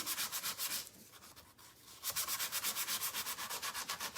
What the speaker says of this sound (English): Just sanding it down.